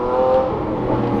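Lamborghini Aventador fitted with a new FI exhaust, revving with a loud, steady, throaty roar that swells slightly, heard close up over a brief burst.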